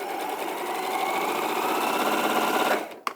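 A sewing machine stitches straight across the opening of a fabric bag with a fast, continuous mechanical whir that runs for a few seconds and then stops abruptly.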